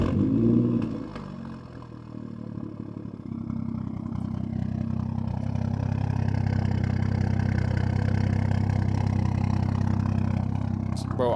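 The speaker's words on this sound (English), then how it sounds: "I guess I can give y'all a clip of this exhaust." A BMW F10 535i with an N55 engine and straight-piped exhaust idles, a steady deep rumble that dips briefly early on, then holds loud and even, with a faint squeal-like sound near the end.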